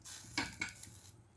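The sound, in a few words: stirring ginger curry in pot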